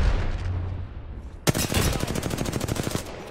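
Grenade blast and rapid gunfire in the Apex Legends battle-royale shooter: a sharp loud burst followed by a steady rattle of repeated shots for nearly two seconds, with no talking.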